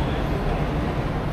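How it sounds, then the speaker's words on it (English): A brief low rumble of an approaching Whoosh high-speed bullet train at a station on the Jakarta to Bandung line, steady and fairly close, with no speech. "Oh yeah, the train is here."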